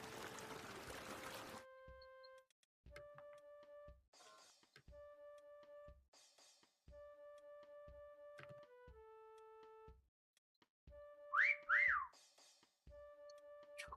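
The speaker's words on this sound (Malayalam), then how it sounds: "ഇവിടെ നിന്നാണല്ലോ വിസിൽ വന്നത്." Whistle sound effects in the video game Meccha Chameleon: a run of steady electronic tones and short pips, then a bright warbling whistle that rises and falls near the end. Everything is clear and close, with no talking.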